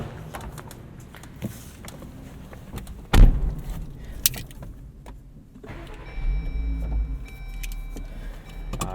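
A 2018 Jeep Wrangler JL Sport 4x4 with a manual gearbox: cabin clicks and a sharp thump are followed by the engine catching. It then settles into a low, steady idle rumble close by.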